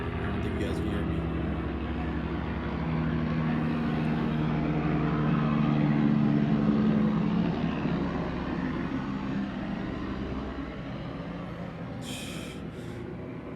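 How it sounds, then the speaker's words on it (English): A fixed-wing airplane passing overhead near the Phoenix airport makes a steady low engine drone that swells and fades gently across the whole stretch, fairly close and continuous, with no speech over it. "And here goes another plane."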